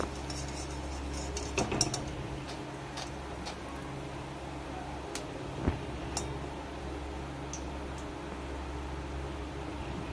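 Crisp semolina toast biscuits are lifted out of a frying pan, a few light clinks and scrapes of a utensil against the pan over a steady low hum, fairly faint and without talk.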